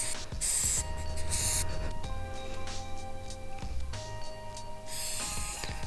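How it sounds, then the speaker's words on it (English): Brake cleaner hisses from an aerosol can in several short and long sprays onto a Yamaha TW200 motorcycle oil drain plug and strainer, close up, with a mechanical hum beneath. "And then I kind of just spray it off with some brake cleaner."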